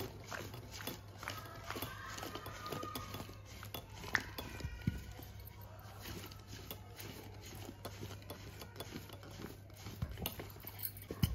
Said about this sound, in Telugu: ఒక కప్పు అంతా కారం పొడి, ఇలా అంతా మిక్స్ చేసుకోవాలి